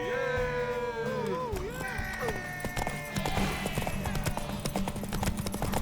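Horse hooves galloping in a race in The Witcher 3, rapid clip-clop beats rising after a moment of speech and continuing loud and close, with crowd noise and voices around.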